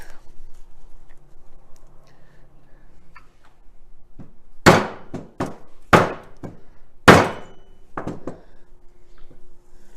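Several sharp hammer strikes on a seal installer, driving a seal into a Volkswagen Beetle swing axle tube, ring out in a short irregular series, three of them loud, against a quiet background.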